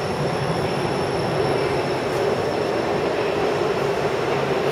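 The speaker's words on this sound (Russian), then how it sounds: "Отправление поезда с другой платформы" A metro train departs from the platform at Novokrestovskaya station in Saint Petersburg, a loud, steady rumble of cars and wheels with faint squealing filling the underground space, no voices heard.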